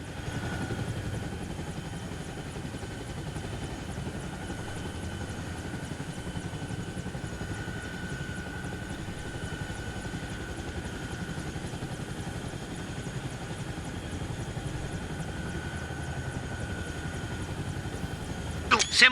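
A military helicopter in the game Arma Reforger spins up for takeoff, a steady loud rotor and turbine drone running throughout with radio-style voices talking over it.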